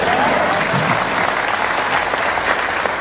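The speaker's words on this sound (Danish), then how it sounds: "Og jeg må gerne klappe." Audience applause at Tønder Festival, a steady dense clapping from a large concert crowd that stays loud and even throughout, with no talk over it.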